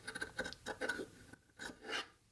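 Scissors trimming extra threads on sewn pants make soft, close snipping and rasping strokes in a quick irregular run, faint and alone with no talk.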